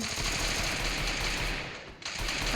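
Rapid automatic gunfire in the Free Fire shooting game, loud dense rattling bursts running almost continuously, with one short dip before the firing picks up again.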